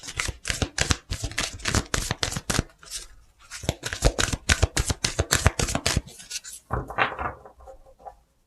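Tarot cards shuffled and drawn by hand, rapid papery riffling in repeated bursts with brief pauses, then a softer slide of cards at the end, close up, no talking.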